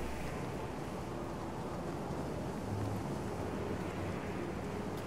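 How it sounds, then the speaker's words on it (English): Steady wind roars without a break across an exposed area in Star Wars Jedi: Fallen Order, a constant broad rushing hiss with no voices over it. "Oh, it's so windy."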